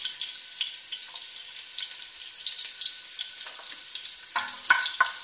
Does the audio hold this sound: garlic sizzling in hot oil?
yes